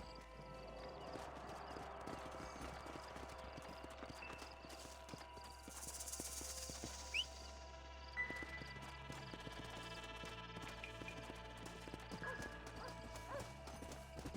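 A horse's hooves clip-clop in a rhythmic gallop within the Red Dead Redemption video game, steady and moderately quiet, laid under game music and ambience with an occasional whinny.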